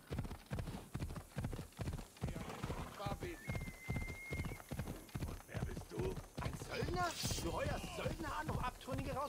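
Hooves of a galloping horse in Assassin's Creed Odyssey pound in a fast regular rhythm, with a whinny and snorts partway through and some game voices over the hoofbeats.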